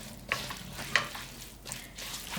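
Dried pollock being tossed with seasoning, a few close, sticky scrapes and soft rustling stirs against a bowl, spaced out over a quiet background with no talking.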